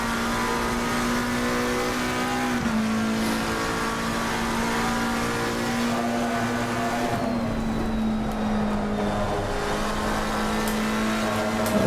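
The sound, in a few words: car driving a lap on a race track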